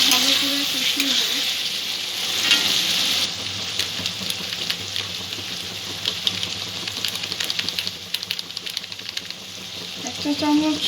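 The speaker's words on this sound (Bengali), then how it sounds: "এই মশলাগুলো একটু ভালো করে কষিয়ে নেব।" Cumin and coriander powder sizzling and frying in a pan for chicken curry, a dense continuous crackle with stirring scrapes, loud and close throughout.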